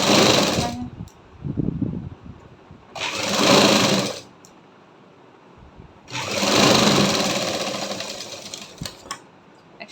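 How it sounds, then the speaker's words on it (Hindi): A sewing machine stitches a folded fabric band for a half-collar neck in three bursts of rapid, buzzing needle runs, the last one longest, separated by pauses with a voice speaking in between. "फोल्ड करके हम इसमें सिलाई लगा देंगे।"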